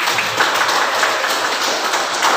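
Dense, steady clapping from a classroom of students, sustained and fairly loud throughout with no pauses.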